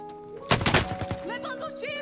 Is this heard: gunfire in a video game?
yes